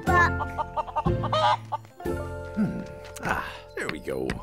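A cartoon chicken clucks in quick rhythmic bursts during an animated children's egg hunt on a farm, mixed with other bright voiced cartoon sounds and tones.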